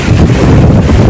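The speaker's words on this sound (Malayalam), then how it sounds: "അപ്പോഴത്തെ കാറ്റ് ഇരട്ടിയായി ചോളപ്പാടം കിടന്ന് അടിച്ച് തകർത്ത് പോകുന്ന കണ്ട" Strong wind gusts blowing across an open corn field, a loud continuous rushing roar with buffeting on the microphone.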